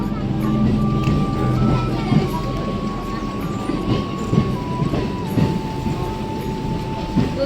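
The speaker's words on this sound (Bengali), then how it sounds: "এখন ট্রেন ঢুকে গেছে, এখন ট্রেনে উঠবো আমরা সবাই।" A passenger train rolls into a station platform with a steady, heavy rumble, wheel clatter and a long drawn-out horn tone, while a crowd of people chatter nearby.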